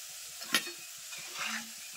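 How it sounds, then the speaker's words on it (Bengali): Soybean koftas frying in hot oil while being stirred and lifted out, a quiet close sizzle with a brief clink of the spoon against the pan. "এই কোপ্তাগুলো কিন্তু সুন্দর করে ভেজে নিয়েছি। এখন তুলে নেব।"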